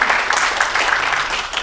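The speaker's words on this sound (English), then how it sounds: "Yeah, we can clap for that." Audience members at a talk clap briefly, a short burst of many hands clapping together, fairly close and steady.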